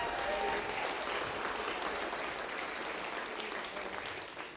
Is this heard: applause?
yes